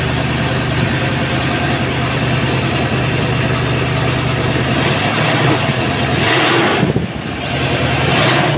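A Leyland P76 V8 hybrid engine, running slightly lean on a rough carburettor tune, idles steadily and close by with a continuous low rumble, a brief dip in its note near the end.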